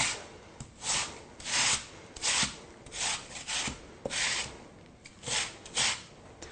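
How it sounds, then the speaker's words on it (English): A Granny Smith apple scraped against a grater for baby food, with repeated rhythmic rasping strokes about every half second, close and fairly loud, no talking. "So you should have about a cup once the apple is grated."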